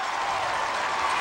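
Crowd noise echoing inside a domed stadium at a high school football game, a steady wash of cheering and murmur with no distinct peaks.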